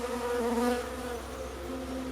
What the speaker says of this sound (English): I should water the bees.